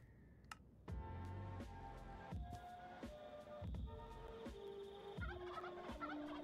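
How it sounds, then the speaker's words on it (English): Turkeys gobble repeatedly in the Minecraft RLCraft modpack, a series of rapid warbling calls in several bursts over a steady low hum, fairly close and clear with no talk. "I hear turkeys."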